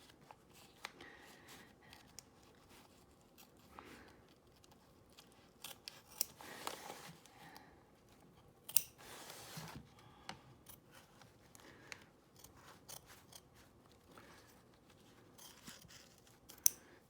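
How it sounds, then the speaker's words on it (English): Scissors trimming embroidery stabilizer while it is still held in the hoop, faint, close snips and rustles scattered irregularly through a quiet room, with a few slightly louder cuts. "I'm gonna trim the rest of this stabilizer away because it's easier to do it in the hoop"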